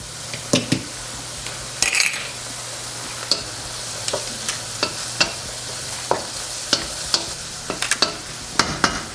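Onion and minced garlic sizzle in a pan over medium heat for tofu sisig, a steady frying hiss broken by repeated sharp scrapes and clinks of a utensil stirring against the pan.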